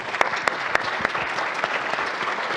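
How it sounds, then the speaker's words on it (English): A live audience applauds to congratulate the winner of a close leaderboard contest at a Python performance talk, a dense steady patter of many hands with a few sharper claps standing out, continuous for the whole stretch. "Yeah, round of applause."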